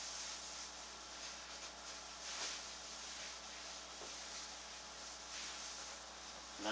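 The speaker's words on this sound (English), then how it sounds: "All I've got to do now is rub out the Howard's Feed and Wax." Howard's Feed and Wax being rubbed out by hand on a wooden Lane coffee table, a soft, continuous hiss of cloth on wood with faint strokes and no voices.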